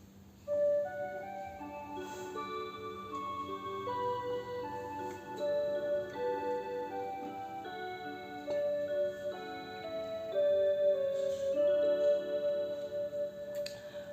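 A Seiko QXM378B wall clock ticks softly and steadily indoors while its melody chime plays sustained musical tones over the ticking.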